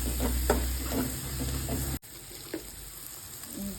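Spring onion with sambar powder frying in a pan, a steady close sizzle with soft stirring scrapes that drops quieter halfway through.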